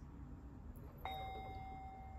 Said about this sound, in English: Let's practice when you hear the bell.